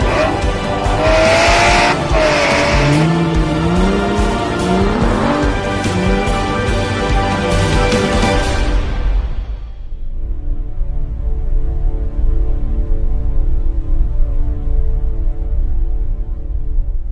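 An Audi R8 V10 plus driven hard on a race track, its engine rising and falling through gear changes with tire squeal, loud and close, then settling to a steady lower drone.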